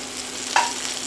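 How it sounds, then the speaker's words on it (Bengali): Sliced potato, carrot and papaya fry in a little oil in a pan with a steady close sizzle, and one brief clink of a stirring utensil partway through. "দিয়ে অল্প সুখা দিয়ে আমি এগুলোকে সবজিগুলোকে ভাজব"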